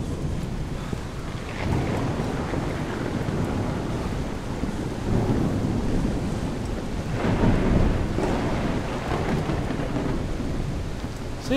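Thunderstorm in the video game The Solus Project, with steady heavy rain and wind roaring throughout and several deep rolls of thunder swelling through the storm, loud and continuous with no talk.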